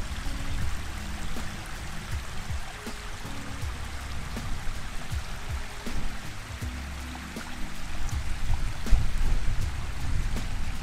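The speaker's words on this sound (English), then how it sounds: "Two-tier waterfall. This big ass waterfall." Steady rushing water from a large two-tier waterfall in the hills of Malibu, a continuous broadband roar with splashing texture, heard from a moderate distance and holding level throughout.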